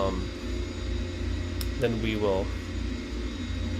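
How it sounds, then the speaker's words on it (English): Steady aircraft engine drone in the X-Plane 10 flight simulator, an approach to Lukla, running loud and continuous throughout with a couple of brief tonal chirps over it. "Our engine sounds aren't lining up"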